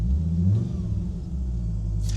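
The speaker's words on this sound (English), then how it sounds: "That 5-cylinder engine does have a nice note." A Fiat Coupe's five-cylinder engine runs with a deep, steady low rumble from inside the car, a brief continuous note without speech.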